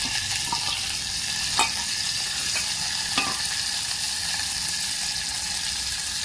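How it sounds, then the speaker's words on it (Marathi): Cut, washed drumsticks (moringa pods) go into hot oil with cumin and fry with a steady, loud, close sizzle throughout, broken only by a few faint clicks. "तेल तापल्यावरती थोडं जिरे घातले आणि वरने हा कट केलेला शेवगा स्वच्छ धुतलेला तो टाकून दिला"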